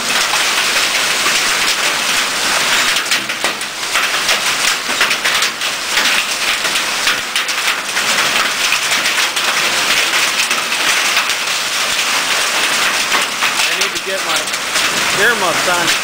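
Hail pounding on a barn roof during a storm, a dense continuous loud clatter of impacts with a crackling rain-like roar, steady for the whole stretch.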